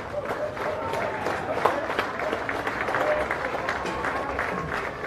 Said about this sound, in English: How about a huge round of applause, ladies and gentlemen, for all the nations competing over the last couple of weeks.